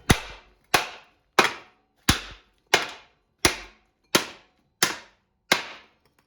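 Metal hammer strikes driving a worn trailing arm bushing out of a Honda Civic rear trailing arm, nine sharp, loud, evenly spaced bangs about two-thirds of a second apart with short ringing decays, no talking.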